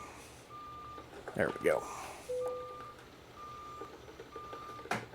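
A Kenworth W900 dump truck in American Truck Simulator backs up with a repeating reversing alarm beeping at an even rhythm, plus brief air and engine bursts, while someone talks over it.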